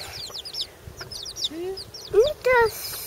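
Chicks peep and chirp in high, quick bursts close by, with a few lower clucks, as people talk softly nearby.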